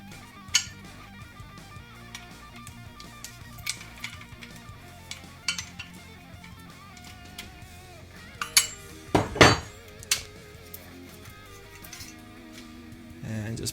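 A barrel nut wrench working loose the nut on a Chiappa M4 .22 rifle's polymer upper receiver, giving repeated metallic clinks and scraping clanks with a louder rattling burst partway through, close up under a steady background.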